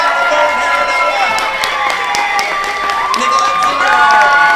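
Loud convention panel audience cheering, whooping and clapping for the panelists coming out, with shouts rising over a sustained roar of the crowd.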